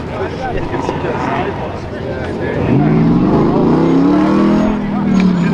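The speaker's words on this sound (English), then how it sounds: "looks like possibly one of those stock class cars making its way through the desert" A stock class race car at King of the Hammers drives through open desert, its engine a steady rumble that swells and rises in pitch midway as it draws nearer, with a commentator talking over it throughout.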